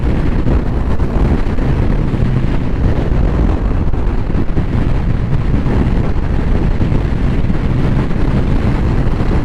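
Wind roaring inside a motorcycle helmet behind the windshield of a moving Honda CB1100RS, a loud continuous low buffeting rush that is steady throughout with no pauses.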